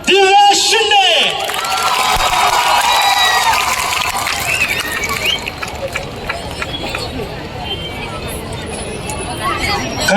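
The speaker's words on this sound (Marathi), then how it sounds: "जोरदार टाळ्यांच्या गजरात आमंत्रित करूयात" An audience at the Badlapur Bhim Mahotsav 2026 stage event welcomes Divya Shinde with sustained applause, cheering and crowd babble, loud at first and gradually settling, with a voice speaking over it at the start.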